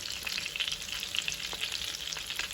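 Chiftele, Romanian meatballs, sizzle steadily in hot oil in a frying pan, a dense crackling hiss with small pops that continues close up without any voices.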